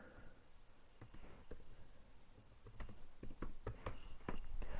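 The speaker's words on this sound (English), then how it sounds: "I'm just going to type 16." Someone types on a computer keyboard close by, a quiet, uneven run of clicks and key taps with a few louder strikes toward the end.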